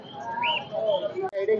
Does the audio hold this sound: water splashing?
no